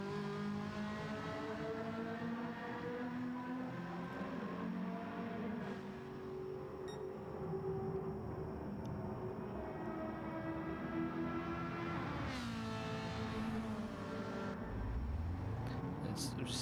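Race cars in Gran Turismo 7 at the Nurburgring GP-D circuit during an online league race: steady droning engine tones shift in pitch as cars pass, with another car revving up near the end and a commentator talking throughout.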